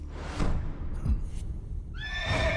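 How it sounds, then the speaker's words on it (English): A white horse in Metal Gear Solid: Peace Walker lets out a loud, close neigh that rises into a bright, wavering whinny, with a few soft thuds before it. "Look, it's a white horse!"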